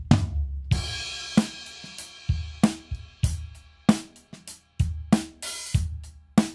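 Close-miked drum kit with stereo overheads, kick, snare and two toms, played as a tight groove: punchy regular hits with crisp cymbal wash over about six seconds, dry and without room ambience.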